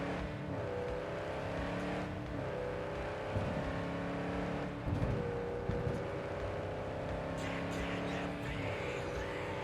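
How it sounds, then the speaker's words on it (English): A Nomad car in Cyberpunk drives with a continuous engine drone that rises and falls through repeated gear shifts, loud and steady throughout. "This is a Nomad car."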